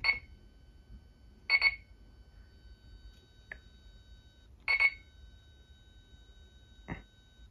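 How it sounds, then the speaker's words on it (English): Short electronic beeps from the stopwatch of a Four Alarm Talking Clock sound a few times at uneven intervals, faint and thin, over a quiet background hiss. "It just beeps."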